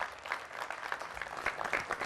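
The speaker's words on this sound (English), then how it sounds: "Big round of applause." A studio audience at a televised health talk show on obesity applauds in a brief burst of dense clapping, moderately loud and alone.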